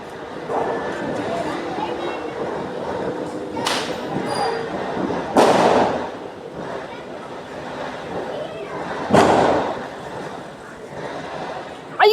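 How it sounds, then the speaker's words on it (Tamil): Country firecrackers burst during a simple home Diwali celebration, several sharp thuds spaced a few seconds apart over steady background chatter and people talking. "நாட்டு வெடியை எப்படி வைக்கிறான் பாருங்க"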